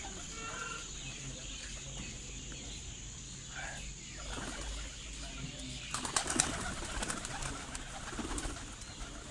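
A pigeon landing at night, with soft wing flaps and a brief flurry of fluttering against a steady hum of background noise, faint and fairly distant, while people speak quietly nearby.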